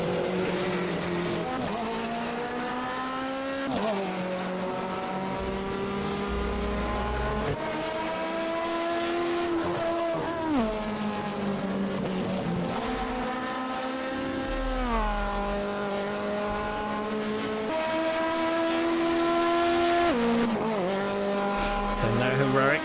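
An Alfa Romeo 155Ti race car in a racing video game leaves the pit exit on an outlap at Spa-Francorchamps. Its loud, close engine climbs repeatedly through the gears in rising pitch sweeps, with brief dips at each shift.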